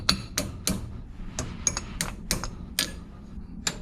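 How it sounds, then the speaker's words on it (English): Tapping the dust shield off an old CV axle from a 2002-2006 Mini Cooper gives sharp metallic taps, about a dozen spaced irregularly over a few seconds, close up and clear against a quiet background. "grab your old axle, tap off the dust shield"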